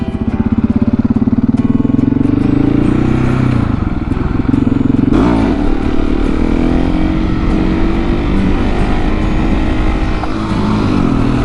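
A motorcycle engine roars loudly and continuously up close during a wheelie, revving high and shifting pitch, with wind buffeting throughout.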